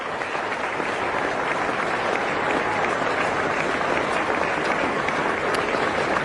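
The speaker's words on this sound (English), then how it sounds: "the applause is for Brian Lara" Sustained applause from a small crowd at an Australia versus West Indies cricket Test on its final day as Brian Lara leaves the field, a steady dense wash of clapping throughout with no talk.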